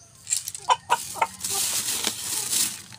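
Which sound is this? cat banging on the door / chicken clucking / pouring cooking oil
chicken clucking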